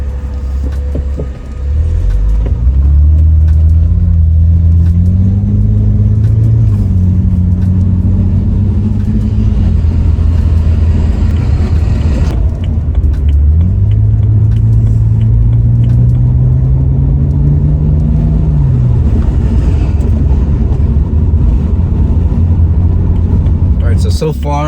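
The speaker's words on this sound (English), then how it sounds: "how it sounds with just the MagnaFlow muffler installed" A BMW E90 328i with an N52 engine and a MagnaFlow performance muffler on dual exhaust tips drives on a road, its loud engine rising and falling through two long accelerations and gear shifts, a steady drone between, recorded from inside.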